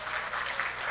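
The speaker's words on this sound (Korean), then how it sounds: "박수로 환영하도록 하겠습니다" A church congregation applauds to welcome a first-time visitor at a Sunday worship service, a short, dense burst of many hands clapping at moderate volume.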